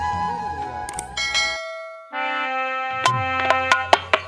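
Bell sound effect for a channel's bell icon: a bright ringing chime that fades, then a second louder bell strike with a long ringing tail and several sharp ding accents.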